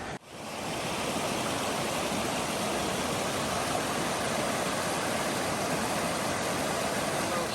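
Water rushes steadily over rocks at a stream in Algonquin Park, a loud, even, broadband roar that fades in at the start and holds without pause, no talking.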